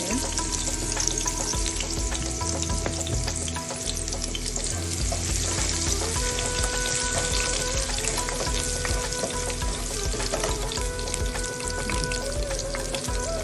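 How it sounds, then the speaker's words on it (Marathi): Garlic sautéing in hot oil in a pan for a soya vegetable dish, a loud, close, continuous crackling sizzle with stirring scrapes and spatters running throughout, no voices. "तेल तापत ठेवलं आणि त्या तेलात आता लसणी टाकतो लसणी जरा आता परतून घेणार"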